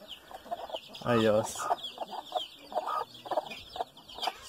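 Chickens cluck on a rural farmyard, with one loud burst of clucking up close and softer fowl calls scattered around it, while people talk briefly nearby.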